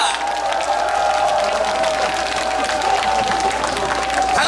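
Steady, dense applause from an indoor concert audience welcoming a trot singer onto the stage, sustained and fairly loud throughout with a faint crowd murmur beneath.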